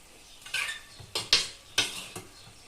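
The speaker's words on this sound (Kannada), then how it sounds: "ಸೊ ಹಾಕಂಥದ್ದು ಚೆನ್ನಾಗಿ ಮಿಕ್ಸ್ ಮಾಡೋದು." Chicken pieces with spices are stirred in a pot for chicken sukka: a few distinct scraping clinks of a spoon against the metal vessel, spaced irregularly over a soft background.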